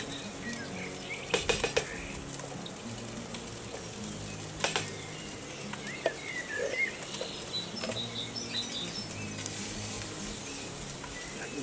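Onions and bacon rinds brown in a pot on a Big Green Egg, a steady close sizzle broken by a few metallic clinks of a utensil against the pot.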